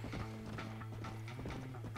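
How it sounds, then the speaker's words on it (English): Horse hooves clip-clop in the Red Dead Redemption video game, a quiet, steady run of rhythmic hoof strikes with faint mechanical creaks alongside. "I was waiting for more horses to show up behind me."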